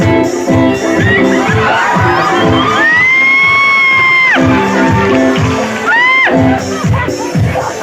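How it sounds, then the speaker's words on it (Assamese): An audience at a stage event in Assam claps, whoops and cheers loudly as an announcer is honoured with a gamosa. Rhythmic beats and sharp whistle-like cries rise over the sustained crowd noise. "হাত চাপৰি এটা ডাঙৰকৈ লাগিব"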